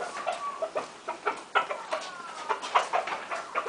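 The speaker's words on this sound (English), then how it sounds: "Should we go and see the chicks again, Louis?" Chickens cluck in a run of short, irregular calls with a faint drawn-out note, close by and fairly loud, with no one talking over them.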